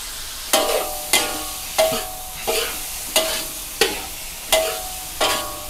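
Squid sizzles and hisses in a hot wok while it is stir-fried for a Thai basil dish, with about eight evenly spaced scraping strokes of the spatula, close and loud, and no voices.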